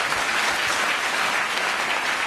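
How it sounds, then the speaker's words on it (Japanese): A room full of people at a Democratic Party joint caucus meeting claps steadily for a couple of seconds, a dense, even burst of applause with no voices over it. "皆さんのご了解をいただけるのでしたら拍手をお願い申し上げたいと思います。"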